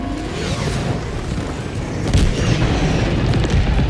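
A bomb explosion in Helldivers 2 during a bug breach, a loud rumbling blast that swells partway through into heavy booming and crackling debris, close and dense.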